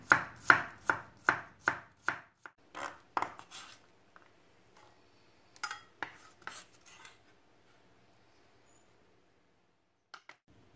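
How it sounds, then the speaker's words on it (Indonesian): Shallots are sliced with a knife on a cutting board: a rapid series of about eight crisp, close chops, then a few scattered cuts and soft scraping with long quiet gaps, no talking. "Kita iris dulu bawang merah."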